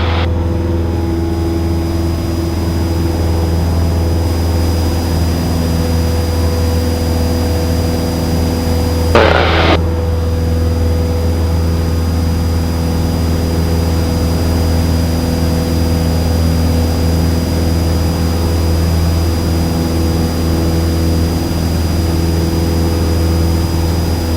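A Cessna 172S light aircraft engine runs at full power, a loud, steady droning hum heard from inside the cabin for the whole stretch, with one brief hissing burst partway through.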